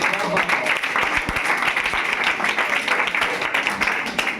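A crowd bursts into dense, continuous applause, many hands clapping at once for several seconds, loud and close.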